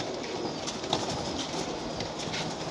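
Pigeons caught from a plaza rooftop coo softly amid a constant outdoor hiss, with a faint flutter of wings and no talking.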